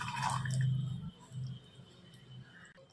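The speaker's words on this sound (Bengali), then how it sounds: "এবার খুব সামান্য একটু জল আমরা এর মধ্যে অ্যাড করবো, একেবারেই অল্প। ব্যাস, জলটা দিয়ে দিলাম।" A little water is poured into a pan of chicken and potato curry, a brief close splash and sizzle at the start that fades into faint gurgles and soft clicks.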